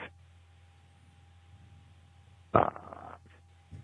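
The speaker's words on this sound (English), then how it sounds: "Promise I won't fart for that long on the phone again." A fart heard over a phone line, a low rumbling buzz that rises into a sharper, louder sputter near the middle, thin and band-limited against a faint steady line hum.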